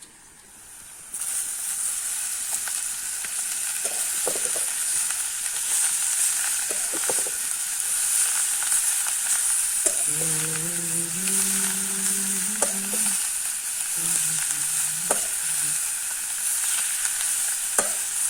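Turmeric and spice masala fries in a pan for tandalja bhaji, with a loud, steady hiss starting after a quiet second and running throughout, broken by a few scrapes and a brief tonal squeak midway.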